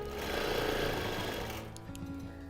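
A longarm quilting machine stitches a Christmas tree skirt, a rapid, loud mechanical chatter that slows and fades after about a second and a half, followed by a few faint clicks.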